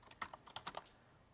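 Quick burst of computer keyboard typing while setting up text in Cricut design software: about eight sharp, close key clicks in an uneven rhythm over a quiet room, with no talking.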